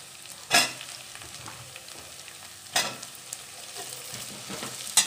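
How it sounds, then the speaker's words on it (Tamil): Vegetables for sambar sautéing in oil, a steady close sizzle broken by a few sharp spatula scrapes against the pan, with no talking. "காயெலாம் நல்லா எண்ணெயிலே வதங்கட்டும்"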